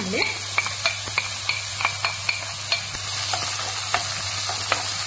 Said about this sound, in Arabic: نجيب الزيت هكا، ونضيف هاد البصله اللي راني مقطعتها رقيقه